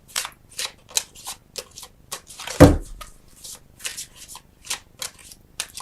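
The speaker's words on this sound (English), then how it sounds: "I think I want to get it from the Flower Therapy deck." Flower Therapy oracle deck cards being shuffled by hand in a quiet room, a series of crisp riffling bursts at a steady rhythm, close and clear, with one louder knock partway through.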